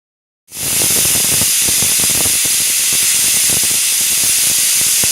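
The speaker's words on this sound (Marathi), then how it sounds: "आता आपण कुकरला ढाकण लावून त्याच्या तीन शिट्ट्या काढून घेऊया" After a moment of silence, a loud, steady hiss of steam bursts from a pressure cooker whistle while rice pulao cooks, and keeps going, with a sputtering rattle beneath it.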